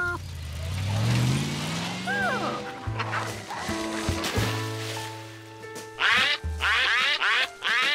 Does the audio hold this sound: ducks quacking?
yes